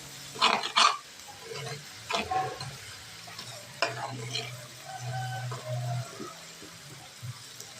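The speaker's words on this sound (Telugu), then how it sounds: "అడగట్టుకోకుండా జాగ్రత్తగా కలుపుకోవాలండి." Potato fry being stirred in a pan with a spoon, giving intermittent scraping clatters and a soft low sizzle between strokes, close and fairly quiet.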